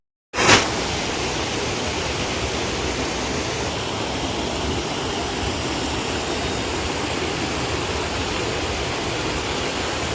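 A constant rushing wash of rainwater pouring off trees into a drainage channel and flooding into a house, starting abruptly and holding steady and loud.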